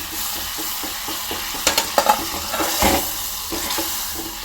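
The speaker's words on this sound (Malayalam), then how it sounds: "ആദ്യം തന്നെ നമുക്ക് ഗാർലിക്ക് അങ്ങോട്ട് ഇട്ട് കൊടുക്കാം ഇവനൊന്ന് നൈസായിട്ട് വാടി കിട്ടണം" Garlic fries in butter with crushed chilli, a close, steady sizzle punctuated by a few sharp scraping strokes of stirring in the pan.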